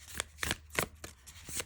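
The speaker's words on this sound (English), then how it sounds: "Let's see if we can ripple shuffle these cards." A deck of oracle cards is ripple shuffled, giving quick bursts of riffling paper flicks, close and crisp, in a few rapid pulses with no talking.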